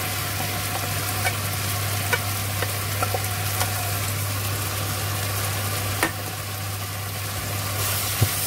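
Boiled mung beans sauté in a pan with a steady sizzle and hiss, small clicks and scrapes of stirring scattered through, over a constant low hum.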